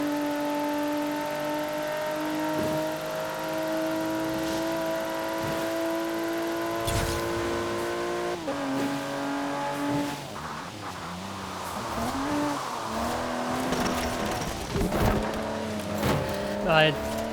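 Land Rover Velar in Forza Horizon 4 driving on a winter course, its engine droning steadily and then rising and falling through revs as the car slides, with tire noise and a voice talking over it.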